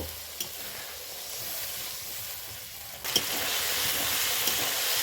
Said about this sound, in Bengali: এখন সিদ্ধ হওয়ার জন্য সামান্য পরিমাণে একটু জল দেব।